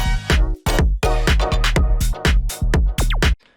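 An electronic track plays a synth string part as bright, chopped harmonic stabs in a quick rhythmic pattern, loud and close with short gaps between hits and one falling pitch sweep near the end.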